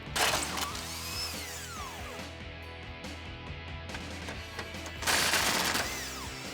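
Ratchet with a 21mm socket working loose the bumper mounting nuts on a 2018 Ford F-150, mechanical clicking and rasping bursts at the start and near the end over a steady background hum.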